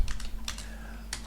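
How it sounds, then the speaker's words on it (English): Keyboard typing during an English-speaking test interview, with a few scattered key clicks in brief clusters over a low room hum and no talking. "if you hear some typing noise, that's because of that"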